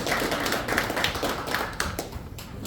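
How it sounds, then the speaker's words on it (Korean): Warm welcoming applause from the audience at an annual general meeting of a Korean clan association, a crowd clapping in a dense, moderately loud patter with a few sharper claps standing out near the end. "뜨거운 박수로 환영해 주시기 바랍니다"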